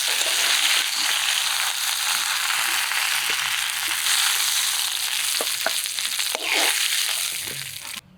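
Pieces of katla fish frying in oil in a kadai, a loud steady sizzle with light crackles and a few soft knocks, tapering off near the end, no voices.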